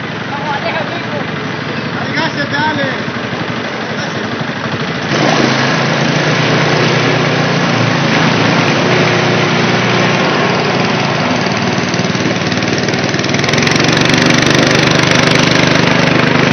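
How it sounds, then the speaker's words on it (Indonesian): An outboard motor drives a traditional wooden pompong boat on a river in the Mentawai Islands. It makes a loud, continuous droning buzz that grows stronger partway through. "Perahu tradisional yang dilengkapi dengan mesin tempel"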